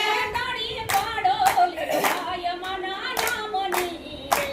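Rhythmic hand clapping keeps time with a sung Gujarati devotional song, sharp claps landing roughly every half second, close and clear beneath the melodic voice.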